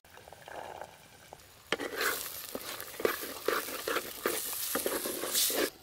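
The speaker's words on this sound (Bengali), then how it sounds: "মটরশুঁটি দেওয়ার পর মশলাটা আরেকটু ভালো করে কষে নেব।" Peas and spices sizzle in a pan, with a quiet hiss at first and then louder frying as a spoon scrapes and stirs, the clinks and scrapes coming in irregular bursts.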